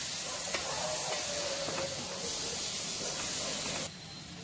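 Vegetables sautéing in a pan for millet sambar, a steady hiss and sizzle with a few light stirring scrapes, close by, cutting off abruptly near the end.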